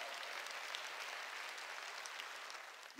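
A church congregation applauds during a sermon, a steady, even wash of many hands clapping at a distance, sustained throughout without pause.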